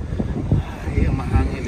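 Outdoor wind gusting across the microphone, a rough, rumbling buffet that rises and falls in short surges, loud and close, with faint voice-like sounds mixed in.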